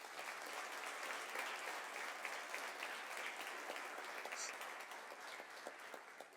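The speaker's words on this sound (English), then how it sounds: "So another big round of applause" Steady applause from the audience at a Weslaco High School college signing ceremony, a dense patter of many hands that sounds faint and somewhat distant and carries on evenly for several seconds.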